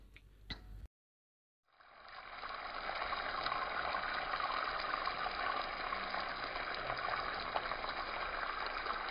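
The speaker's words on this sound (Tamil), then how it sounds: "ஃபிஷ்ஷை 5 to 7 மினிட்ஸ் போல் மீடியம் ஃப்ளேமில் வச்சு நல்லா ஃப்ரை பண்ணி எடுத்துக்கலாம்." Fish fries in hot oil over a medium flame, a steady, dense sizzle that starts after a short silence and holds evenly throughout, close and moderately loud.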